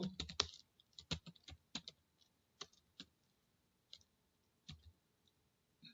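A computer keyboard typed on while writing a description for an Excel macro: sparse, quiet keystroke clicks in short bursts and single taps, with no voices.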